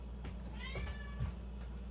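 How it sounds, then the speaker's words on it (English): A pet cat meows for attention close by, giving a drawn-out rising meow followed by a shorter one, with no talking. "If you hear a cat, that's my cat,"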